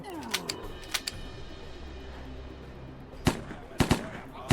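Gunfire in the video game Chronicles of Vipers: several sharp, sudden shots, a few early and a cluster of louder bangs near the end, over low game ambience.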